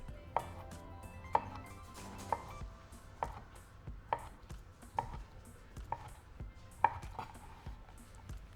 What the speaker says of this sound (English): from here we're going to begin to cut our little strips